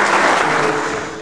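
A crowd at a gathering in defense of the right to water gives loud, sustained applause for a union's Secretary General, a dense wash of clapping throughout.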